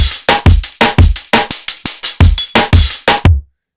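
A drum and bass break from Addictive Drums 2 with layered kicks and snares, loud and punchy in a fast syncopated pattern with dense hi-hats, playing alone for about three seconds before stopping abruptly.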